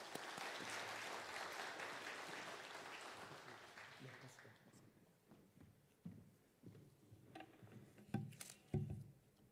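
A church congregation claps to welcome a speaker at a Sunday afternoon service. The dense applause starts loud, thins out and fades into scattered footsteps and small knocks.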